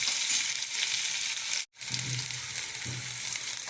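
Chettinad-style chicken masala with salt frying and sautéing in a pan, a steady loud sizzle throughout with soft stirring scrapes, briefly cutting out for a moment midway before resuming.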